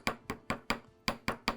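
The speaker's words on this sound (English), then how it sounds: "I'm going to use just my little ball peen hammer right here and just get kind of a pretty little hammered finish on it" A small ball peen hammer strikes a metal pendant to texture its surface, sounding as six sharp, evenly spaced taps close by, with one slightly longer gap midway and no talking.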